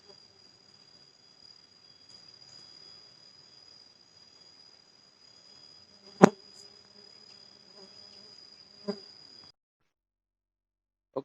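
A faint, steady high-pitched buzz of stingless trigona bees hums throughout, with a few sharp clicks, before it cuts off into silence.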